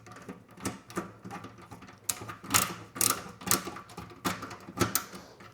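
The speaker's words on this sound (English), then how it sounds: "And now I should be able to put these screws back to hold it in place." Screws being driven by hand to secure a GPU inside a PC case, heard as a run of close, sharp mechanical clicks and ratcheting ticks in uneven bursts, with no talking.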